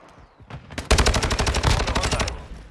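A loud burst of machine gun fire in Call of Duty: Modern Warfare II, fast evenly spaced shots lasting about a second and a half after a few scattered earlier cracks, then cutting out.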